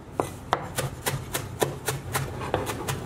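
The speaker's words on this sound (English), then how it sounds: "all we want to do is chop this up" Knife chopping fresh parsley on a board, a quick, even run of about a dozen crisp close taps with no talking.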